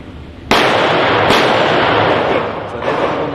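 Gunshots at an indoor gun range: two sharp, loud reports about a second apart, each leaving a long ringing decay and reverberant wash, with a fainter third pop near the end.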